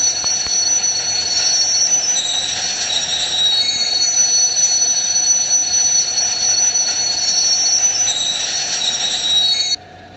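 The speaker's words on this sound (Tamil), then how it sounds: "ஓகே ட்ரெயின் இங்கே நிற்க வேண்டியதான்." A loud, sustained metallic squeal of video game train wheels over steady rumbling rail noise, cutting off abruptly near the end.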